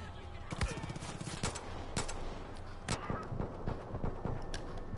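Bursts of automatic gunfire crack repeatedly in Far Cry 5, rapid irregular volleys with sharp reports near and loud across the whole stretch.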